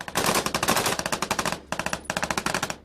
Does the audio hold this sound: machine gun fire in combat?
yes